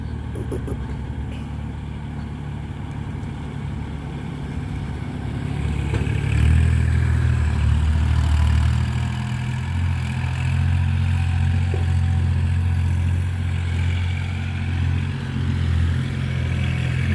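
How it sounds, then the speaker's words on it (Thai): A Kubota L4018 tractor pushes soil, its diesel engine rumbling steadily with some clatter and growing louder and heavier about a third of the way in, then holding a sustained working drone. "มาดูรถไถทำงานครับ"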